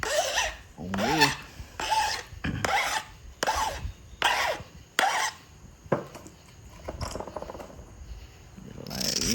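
A stone edge is abraded during flintknapping of a point, a series of short scraping rasps in quick strokes, close by, with soft speech and breathing between the strokes.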